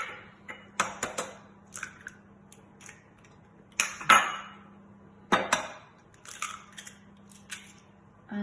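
Three eggs are cracked into a mixing bowl for breakfast muffins, giving sharp taps and clicks against the bowl's rim scattered irregularly over a quiet background, close and fairly crisp.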